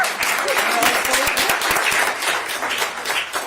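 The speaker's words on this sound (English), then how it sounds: "Give her a round of applause." A room full of people applauds someone at a community gathering about a cash assistance program for pregnant women and new parents, with a steady burst of clapping throughout and some voices mixed in.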